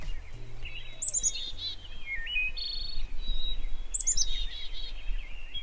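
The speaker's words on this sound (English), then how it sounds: "bird songs." Bird song outdoors in Cherryfield, Maine: repeated bright chirping phrases and warbles over a steady background hum, some calls fairly close.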